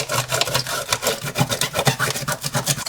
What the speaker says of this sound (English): let's use this mask away to get rid of this masking fluid. Just rub quite hard